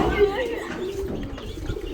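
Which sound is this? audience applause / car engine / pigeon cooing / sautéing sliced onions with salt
pigeon cooing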